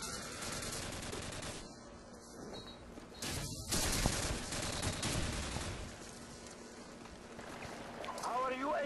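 Gunfire and grenade blasts from the video game Call of Duty 4 in a Domination match on the Crash map, bursts of shooting and explosions mixed with a constant bed of game noise under steady talk.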